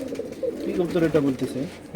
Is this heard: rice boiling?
no